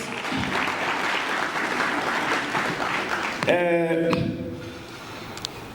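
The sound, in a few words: applause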